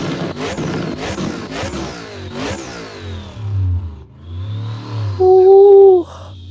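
Modded video game car engine revving repeatedly, a series of sharp throttle blips early on followed by longer swelling revs and a loud sustained high-pitched rev near the end, close and alone.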